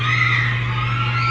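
Large concert crowd of fans at a birthday concert, a dense sustained wall of high-pitched screaming and cheering, loud and continuous throughout with a steady low hum underneath.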